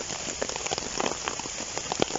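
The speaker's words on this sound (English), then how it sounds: "It's quite heavy, the rain right now" Heavy rain pours steadily during a walk and wild camp on the Icknield Way, a dense, even hiss of drops hitting surfaces with scattered sharper patters, close and continuous with no voices.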